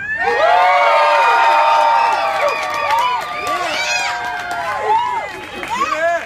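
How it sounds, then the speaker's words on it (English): A crowd at a gathering yells, screams, hoots and cheers loudly and without a break, with many overlapping voices whooping and shouting, close and dense throughout. "Yell, scream, hoot, holler, do whatever you need to do."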